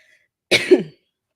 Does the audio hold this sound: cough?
yes